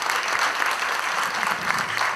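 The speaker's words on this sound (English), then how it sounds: "So can you clap for yourself that you're part of this history that has been created?" An audience at an HR conclave claps for itself, a dense and sustained round of applause from a full room that stays steady and loud throughout.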